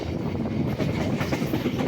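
A MEMU train nearing Chengannur station rumbles along the rails with steady clickety-clack wheel noise, loud and continuous from on board.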